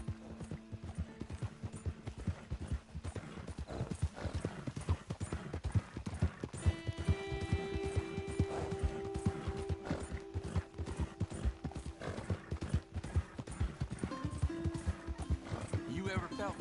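Horse hooves clip-clop steadily in Red Dead Redemption 2, a continuous rhythmic plodding mixed with creaks and occasional whinnies, heard beneath talking voices throughout.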